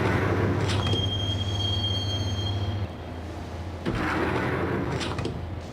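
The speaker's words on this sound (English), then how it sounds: "the train doors had already shut behind me, and I was in for the ride" A train rides along in a Max Payne parody video game, with a steady, loud rolling rumble, a high metallic wheel squeal for the first few seconds, and a brief clunk partway through.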